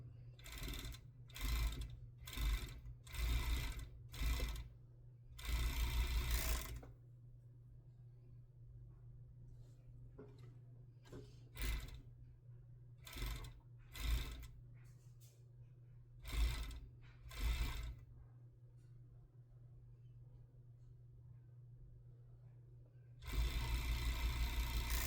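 A sewing machine stitches down the long edge of folded fabric tie straps in quick rhythmic bursts, several short runs at the start, a scattered series mid-clip and a final longer run, with a steady low hum between.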